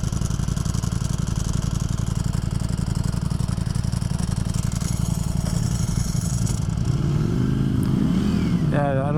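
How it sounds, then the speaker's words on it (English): A 2022 Ducati Streetfighter V4 engine runs loud and steady nearby, a dense, throbbing four-cylinder rumble that continues throughout and rises in pitch near the end as the revs climb. "when he clicked it into gear and it clicks into 4-cylinder mode, it sure is louder"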